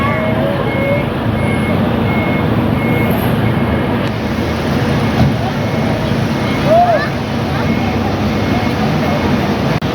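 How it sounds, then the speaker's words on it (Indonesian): A bus backs up through a muddy lot, its reversing alarm beeping steadily over a low idling engine rumble while people talk nearby. "Ketika bis mundur yang lain harus minggir."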